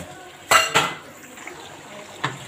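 A small metal bowl is lifted out of a pan of tandoori chicken, giving two quick clinks close together, then a softer clatter a moment later, with quiet kitchen background between.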